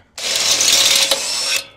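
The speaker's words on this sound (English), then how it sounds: "Drill it out to 8mm and then eventually to 13 in 2 steps." A power drill bores through metal with an 8mm bit while fitting a Zedlock, a steady loud grinding whir lasting about a second and a half before cutting off.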